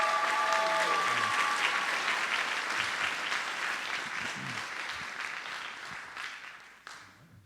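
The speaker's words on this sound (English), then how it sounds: "about one more applause for the soloists, Fitz and Hannah McAlpine." A high school spring concert audience claps loudly and continuously for soloists, the applause slowly fading over several seconds before ending abruptly.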